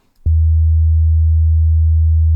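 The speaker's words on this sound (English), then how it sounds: "the sound that I'm using is very, very simple. In fact, it's a sine wave." A generated sine wave starts abruptly after a brief click and holds as a loud, steady, pure low hum with no variation or talk.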